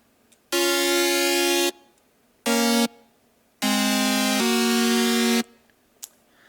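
Sustained supersaw synth chords, thinned to two unison voices with a little detune, sound in three bright blocks separated by short gaps, each chord held steadily at even loudness, in a future bass style.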